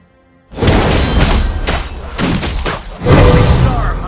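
A turret being destroyed in Mobile Legends: Bang Bang sets off loud, booming blasts that burst in suddenly and pound in repeated heavy waves, with game effects layered over them.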